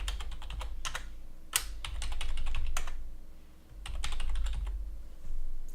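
Fingers typing data into a computer keyboard during a Linux install, with rapid clustered keystrokes and short pauses, close and clear.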